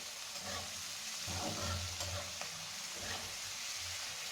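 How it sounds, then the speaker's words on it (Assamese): Onions frying in hot oil in a wok, with a steady broadband sizzle and occasional stirring scrapes, close and moderately loud, no talking. "সেয়া মই পিঁয়াজ ঢালি দিলোঁ। এতিয়া ভাজি ল'ম অলপমান ৰঙচুৱা হোৱালৈ"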